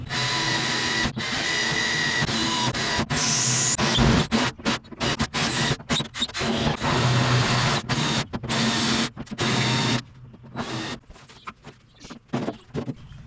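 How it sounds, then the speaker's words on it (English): Drill bits boring through the steel bottom of a trailer frame: a continuous whining grind broken by many short stops and restarts, loud and close, with no talk over it. "so now I will take actual drill bits and punch through the bottom of the frame here"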